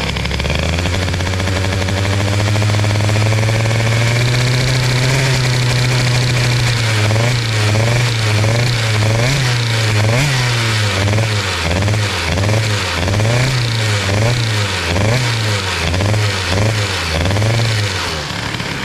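Moped fitted with an Airsal XT 77 kit and large reed intake runs loud and steady, first at a sustained drone, then settling into a rhythmic, pulsing, lumpy throb as the engine wavers, with no talk over it.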